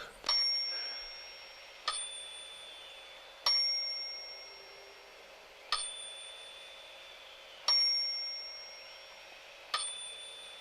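A bright bell rings six times at roughly even intervals, each ding ringing out and fading before the next, in an otherwise quiet space.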